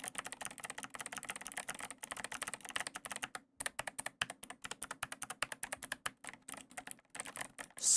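Rapid, clicky keystrokes on a mechanical keyboard in uneven bursts with brief pauses, close and fairly quiet, no voices.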